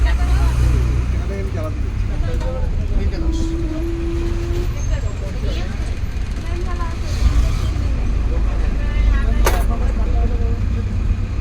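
Steady low rumble of a moving bus engine and road noise fills the ride from start to finish, loud and continuous, with a brief tone and faint clatter in the cabin.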